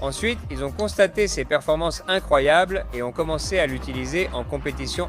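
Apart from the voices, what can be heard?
No everyday noises stand out.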